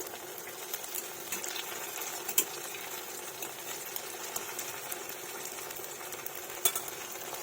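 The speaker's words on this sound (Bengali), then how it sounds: "আমার পকোড়াগুলো কিন্তু আমি লাল লাল করে ভেজে নিচ্ছি" Pakoras frying in hot oil, a soft, even crackling sizzle running throughout with a couple of brief sharp clicks of a utensil, fairly quiet and with no talking.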